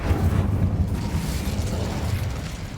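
Incendio fire spell cast in the video game Hogwarts Legacy, a dense roaring burst of flame and rumble that holds loud and steady, then eases slightly.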